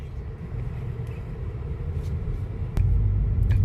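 An all-wheel-drive Audi A4 S Line creeping off across grass, a low steady engine rumble heard from inside the car that swells slightly louder near the end, with no talking.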